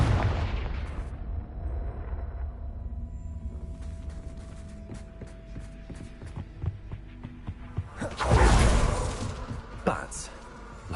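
A Confringo blasting spell in the video game Hogwarts Legacy detonates with a strong, deep boom late in the clip, preceded by a fading blast and clicky game ambience, with sporadic thumps around it.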